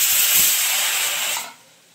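A pressure cooker cooking rice lets out a loud, steady steam hiss that holds for over a second, then cuts off abruptly, leaving quiet.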